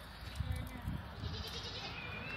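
Goats bleat faintly at a distance in rural Bulgarian village farmland, a few short low calls under steady outdoor background noise.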